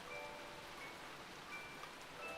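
Steady rain from the Hatoful Boyfriend video game, a faint, even hiss of falling drops with no other sounds over it.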